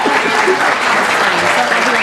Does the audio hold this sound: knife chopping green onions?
no